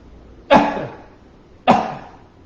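Two sharp, separate coughs about a second apart, each a short burst that fades quickly, close by with near silence around them.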